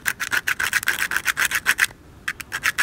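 A small Royal Enfield horn switch part is rubbed back and forth on emery paper, a fast, close, rasping scrape in quick even strokes that pauses briefly before starting again.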